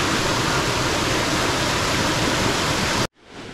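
A close, even roar of stream water tumbles down a small waterfall on the Konkan coast near Guhagar. The rush holds constant and then cuts off abruptly near the end.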